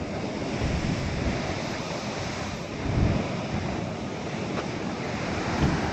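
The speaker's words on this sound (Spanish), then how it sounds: "A ver, mira cómo rompen las olas," Sea waves break and surge against the rocky shore at Guadamía beach near Pría on the Asturian coast, a continuous loud roar with gusting wind buffeting the microphone and swells rising around the middle and end.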